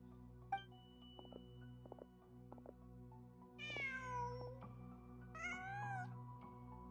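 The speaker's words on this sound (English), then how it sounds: "Just a cat." A cat meowing in the Genshin Impact video game, two clear drawn-out meows in the second half, preceded by faint clicks and soft ambient game sounds, with no talk.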